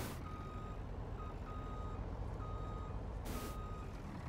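A truck's reversing alarm beeps steadily in Farming Simulator 2019, repeating over a loud continuous engine rumble with a brief hiss partway through.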